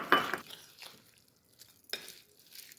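A spoon scrapes and stirs cooled tempering into mango dal in a pot, a sharp clatter at the start followed by softer, intermittent scraping strokes.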